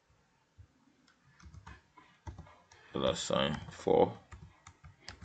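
Keys on a computer keyboard click in short bursts while someone enters a formula in an Excel spreadsheet, with a quick run of taps under a voice that is speaking.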